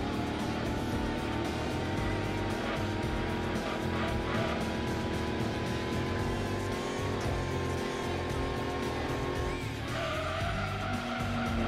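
A muscle car engine roars steadily at high revs in the racing game Gran Turismo 2, with tire squeal layered over a dense, constant drone that shifts pitch near the end.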